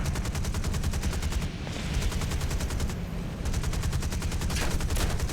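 Rapid, continuous machine gun fire from an aircraft tail gunner in War Thunder, loud bursts rattling without pause over engine drone.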